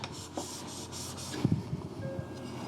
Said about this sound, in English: 1 stroke back and forwards, remove your burr